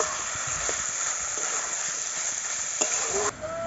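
Minced chicken sizzling in a pan as it is sautéed with spices, a steady close hiss of frying with occasional light stirring knocks, and a brief clink near the end.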